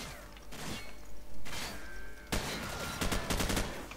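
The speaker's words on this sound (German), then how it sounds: "Schießt man da schon wieder?" Gunfire in the Modern Warfare video game, a Russian setting, with bursts of automatic fire and sharp single shots scattered over four seconds, a loud volley near the end, with no talking.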